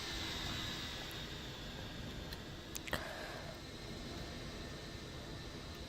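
A Delta Airbus A320 jet on its takeoff roll at Boston in a flight simulator gives off a faint, steady broadband engine roar with a few brief ticks, and no one speaks.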